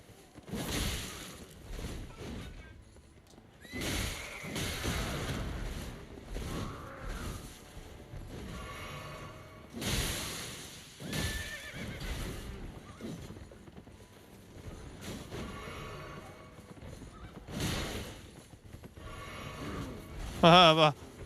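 Elden Ring Nightreign game sound effects with a horse whinnying and hooves clattering, mixed with bursts of combat noise over a background score.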